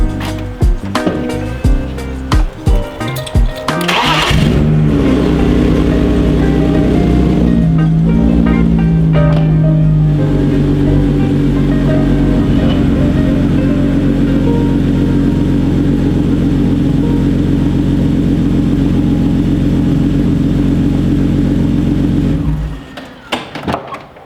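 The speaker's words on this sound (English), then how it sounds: "I should be able to just get in, start it with the clutch in, and be able to drive in first" A BMW E36 with a transmission fault starts up with the clutch in and pulls off in first gear, the engine cranking, catching and settling into a loud, steady drone before cutting off abruptly near the end.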